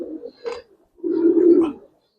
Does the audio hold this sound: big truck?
no